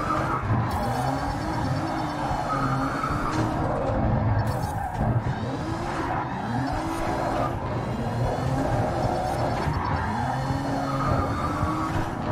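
Race car drifting in the Grid Legends video game, engine revving in rising and falling sweeps as tires squeal and skid repeatedly, loud and close, with occasional thumps of contact.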